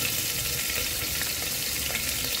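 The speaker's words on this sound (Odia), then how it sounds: "କଞ୍ଚା ଲଙ୍କା ଆଉ ଅଦାକୁ ଯେଉଁ ଛେଚିକି ରଖିଛି ସେଗୁଡ଼ାକୁ ଦେଇଦେବା। ଭଲ ଟିକେ ତାକୁ ଭାଜିବା" Bay leaf, dried chili, green chili and crushed ginger fry in hot oil, giving a steady, close, loud sizzle with a crackling hiss that runs throughout and has no talk over it.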